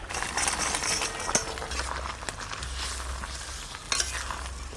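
Fried tilapia pieces go into a simmering gravy with peas and ripe tomato, with a steady sizzle and a bubbling simmer under soft scraping and stirring, plus a couple of light clinks.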